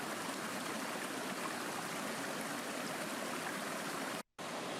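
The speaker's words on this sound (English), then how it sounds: "You can see there's a fair volume of water coming out." A fair volume of water pours out of an old dug trench near a riverbank resurgence, a steady broadband rushing flow heard close and alone, cut by a brief dropout near the end.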